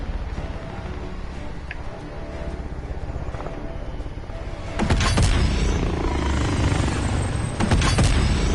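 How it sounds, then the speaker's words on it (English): An enemy attack helicopter in the video game Call of Duty: Warzone: a steady rotor drone builds, then turns into a louder, denser roar with heavy low rumble and sharp bursts near the end. "Be advised, enemy attack chopper incoming."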